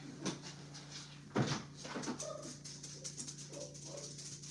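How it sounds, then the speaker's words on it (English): A pet dog comes in through a door at home, with a brief thump and rattle of the door followed by soft shuffling and a faint whimper, over a low steady hum in a quiet room. "Let me let my dog in."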